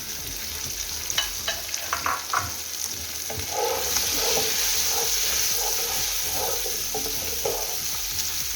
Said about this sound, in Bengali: এই যে একটু চিকন চিকন করে লাল ক্যাপসিকাম দিচ্ছি